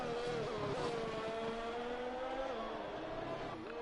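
Aston Martin Formula 1 car engine in an F1 racing video game at the Singapore circuit, a loud, steady high-pitched whine holding close and continuous with slight pitch dips as it runs through the lap.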